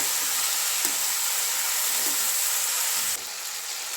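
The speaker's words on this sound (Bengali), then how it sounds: "ফুলকপিগুলো একটু ভালো করে ভেজে নেব, যে তেলে মাছ ভাজা হচ্ছে ওই তেলেই" Cauliflower fries in a pan of hot oil already used for fish, a dense, steady, close sizzling hiss that runs throughout and drops slightly in level near the end.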